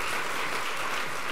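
Audience at an awards luncheon clapping together, a brief, dense burst of applause that stays full and even throughout.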